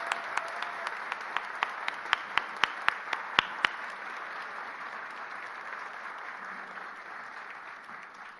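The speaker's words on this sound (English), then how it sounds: "Our orator, Ella McDonald, deserves a round of applause." A graduation ceremony audience at a Faculty of Agriculture convocation gives the orator steady, sustained applause, with a few sharper claps standing out near the start before it evens into a dense wash of clapping.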